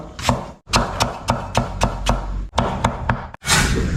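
A knife chops ginger rapidly on a wooden cutting board, about a dozen crisp knocks in a steady rhythm, close up, with brief pauses between bursts.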